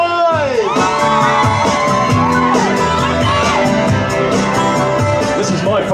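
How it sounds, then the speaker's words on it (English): Wedding reception guests at a hall in Swanton Morley scream, whoop and cheer together in a loud, sustained burst of crowd noise that fills the whole stretch. "Give me a scream if you love pie!"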